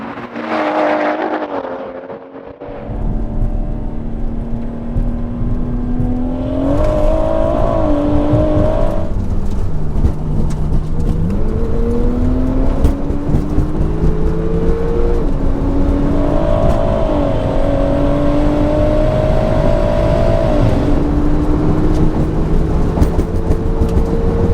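A BMW M140i tuned to about 700 hp and a 580 hp Porsche 911 Turbo S drag race, loud engines revving hard and climbing through repeated gear changes over a sustained roar, with no talk.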